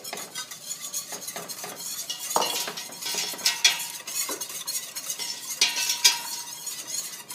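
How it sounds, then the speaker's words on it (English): A whisk scrapes and clinks steadily against a pot as flour is stirred into oil over low heat for a roux, with light metallic taps and a faint sizzle throughout. "You want to whisk this flour into the oil."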